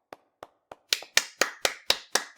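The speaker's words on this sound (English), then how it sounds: "Clap, clap, clap, clap," Crisp handclaps in the Ace Attorney courtroom game: three spaced single claps, then a faster run of about six sharp, ringing claps, close and distinct against silence.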